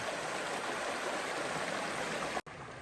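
Clear water rushing steadily over rocks at a Sespe River crossing, a continuous close hiss and gurgle, cut briefly by a sudden dropout near the end before resuming.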